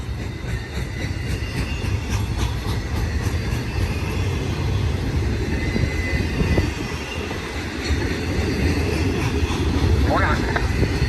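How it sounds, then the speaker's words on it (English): An eastbound BNSF Z intermodal train hauling containers and trailers rolls past on main track 1 at a grain mill siding, a loud sustained rumble of wheels with faint squeals and clatter, close by. "Got a Z train eastbound, main track number 1"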